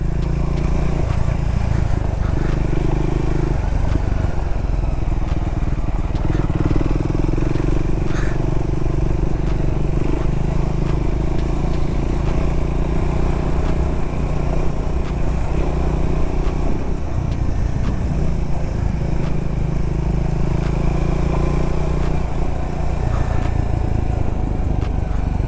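A Scrambler 400X motorcycle riding over loose gravel, its steady engine drone low and constant with crunching, clattering stones under the tires throughout.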